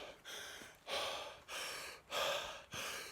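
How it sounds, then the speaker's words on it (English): Heavy exercise breathing is demonstrated close up, with a series of five loud, rhythmic breaths through an open throat, each a broad airy rush separated by short pauses. "Breathing like this."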